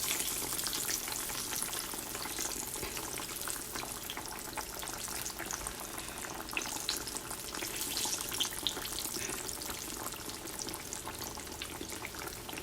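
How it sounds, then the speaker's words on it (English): Breaded slices of eggplant frying in hot oil give a continuous, dense crackling sizzle, close and steady throughout, with no talking. "Let these fry up and finish"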